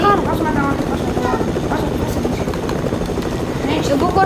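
A helicopter in a squad shooter video game hums with a steady rotor drone, loud and continuous, while players talk over it throughout.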